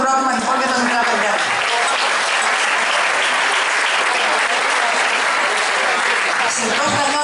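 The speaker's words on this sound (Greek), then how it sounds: "Ένα θερμό χειροκρότημα λοιπόν για τα μικρά παιδιά" Warm applause from a crowd for the young children of a club at a 2019 Xatheri gathering, sustained dense clapping that stays loud and even throughout, with some voices mixed into the crowd noise.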